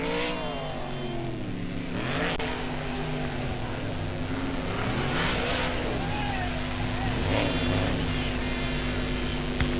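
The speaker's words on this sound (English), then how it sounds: "And Wayne Gardner shows that he can throw a donut with the best of them there in the number 26 car." A sprint car engine roars continuously while doing donuts, its pitch swooping up and down in repeated waves as it spins around, steady and fairly close.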